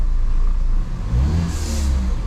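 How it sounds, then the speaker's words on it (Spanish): Mini Cooper with a DME internal fault and misfire revs up close, a loud engine rising in pitch over a couple of seconds, with no talking. "Ahí está acelerando bien."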